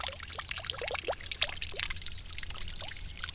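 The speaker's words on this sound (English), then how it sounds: "It's just like water is flowing and it makes now nice sounds." Water trickling and bubbling from a small solar-powered garden pond fountain, a close run of light gurgles and chirpy splashes over a steady low hum, with no voices.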